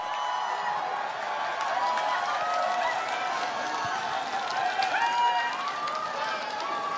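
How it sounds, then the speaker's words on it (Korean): A big outdoor crowd at a political rally in Busan gives a warm welcome to a history lecturer, with steady mass clapping mixed with cheers and whoops, broad and continuous throughout. "뜨거운 박수로 환영해 주십시오"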